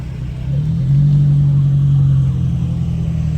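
A Mopar car engine idles and revs at a car meet in San Clemente, a loud, steady low rumble that swells slightly and holds, close by, with no talk over it.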